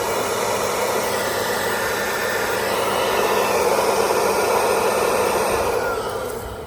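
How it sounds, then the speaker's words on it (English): A leaf blower is held up to a hole full of bees to push smoke inside, giving a steady, loud broadband roar that holds for the whole stretch, then eases slightly at the end. "is sticking the blower up to the hole,"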